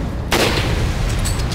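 Grenade blast in the video game Resident Evil 5, a single sudden loud boom with a broad noisy tail that fades over about a second over game background sound.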